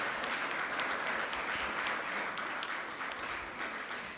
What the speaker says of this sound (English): let's give a round of applause again to our honorees